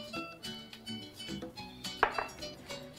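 A spoon stirs garlic salt into burger mixture in a bowl, giving several light clinks and scrapes against the bowl, quiet and close, with a brighter clatter near the end.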